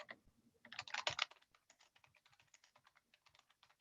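Quick, light clicks of typing on a computer keyboard: a dense burst of keystrokes near the start, then sparser, evenly spaced taps, close and fairly quiet with no talking.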